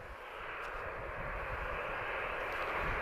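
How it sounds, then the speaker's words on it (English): A Ryanair Boeing 737-800 at Lisbon Airport, bound for London Stansted at night, gives off a steady, distant broadband engine roar that builds slowly over a few seconds with no voices. "This is Ryanair 737-800, and she's flying to London Stansted."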